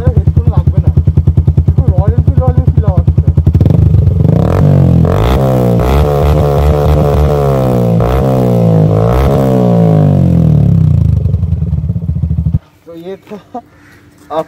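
Motorcycle fitted with an Akrapovic exhaust revs hard and loud, a rapid throbbing idle building into sustained high revs for about nine seconds before cutting off abruptly, with a few faint blips and sounds afterward.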